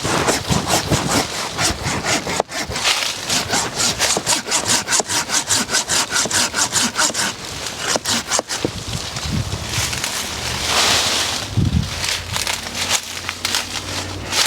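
A dull hand saw cuts through a mango tree branch in fast, steady rasping strokes, loud and close. The saw goes quiet near the end and some rustling follows.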